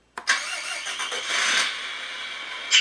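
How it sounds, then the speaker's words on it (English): Electronic engine start-up from a Tamiya 1/14 Volvo FH16 RC tow truck's sound unit: a loud cranking burst settles into a steady diesel rumble and ends on a brief sharp rise, with no talking. "you'll hear the original start up, and then we can do our engine start remotely"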